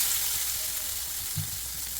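Crushed onion and chilli dropped into hot oil left from frying dried fish, giving a loud, continuous close-up sizzle throughout.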